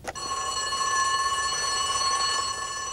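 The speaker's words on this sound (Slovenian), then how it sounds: "Hiter pritisk na alarmni zvonec." A fire station alarm bell in the Fireman Sam cartoon rings loudly and continuously for about three seconds after a sharp start, with a bright, steady metallic ring and no speech.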